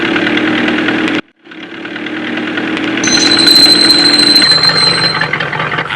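Car engine running loudly after its silencer has fallen off, a steady rough mid-range drone with a brief cut-out early, then continuing with a thin whine rising over it.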